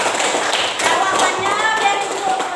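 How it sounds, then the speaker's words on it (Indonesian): Students in a classroom clap for a classmate's correct answer, a dense, steady patter of many hands lasting a couple of seconds with faint voices mixed in. "tepuk tangan untuk Putri."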